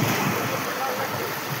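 A rain-swollen waterfall at Thombare Vasti roars as a dense, continuous rush of falling water, loud and close, with no break across the short stretch.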